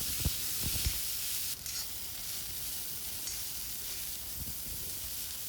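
Boiled cowpeas, drained and salted, stirred in a hot pan for a thoran: a steady close sizzle throughout, with a few soft scraping knocks of the spoon near the start and again later.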